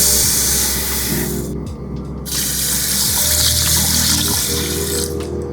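Two and a half cups of water pour steadily into a pressure cooker holding tri-color quinoa, a loud continuous splashing rush close by with a brief dip partway through.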